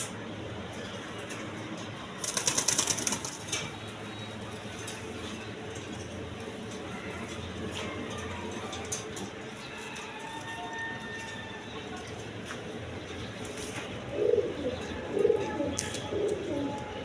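Breeding Rasgolla pigeons coo steadily at low volume, with a sudden burst of wing flapping early on and another flurry of movement near the end.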